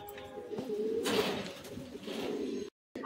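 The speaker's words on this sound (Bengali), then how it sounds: "এটা আমার ঘরের কালদমা গিরিবাজ পায়রা" Giribaz pigeons coo softly with a low, throaty warble, a couple of rolling calls close by against a quiet background before a brief silence.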